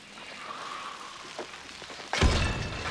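A grenade goes off in the video game Hunt: Showdown: a sudden, heavy blast bursts in near the end after a quiet stretch of faint background noise, then rumbles on loudly.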